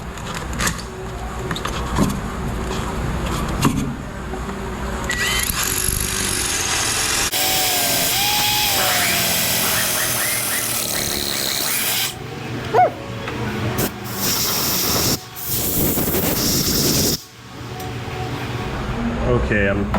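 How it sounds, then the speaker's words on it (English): A loud pneumatic air hammer with a chisel cuts at a seized lug nut, rattling steadily with metallic chattering, broken by short pauses, with a voice talking at times over the machinery. "I'm gonna go back in with the chisel on the air hammer and go to work on this this lug nut"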